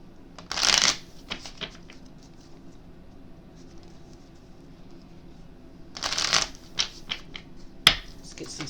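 Spiritual guidance cards are riffled and shuffled in two brisk bursts several seconds apart, with softer flicks and taps between them and a sharp snap near the end, close and clear in a quiet room.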